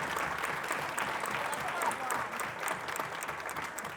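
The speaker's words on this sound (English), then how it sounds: "first let's give them a round of applause." Audience at a real estate business event gives a round of applause to panelists, fairly quiet, continuous clapping from a room of people with murmured voices underneath.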